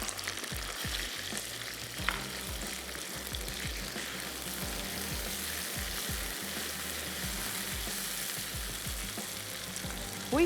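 Onions fry in oil with garlic and ginger paste for a potato and onion sabzi, giving a steady close sizzle throughout with repeated clattering stirs of a spoon in the pan and no talking.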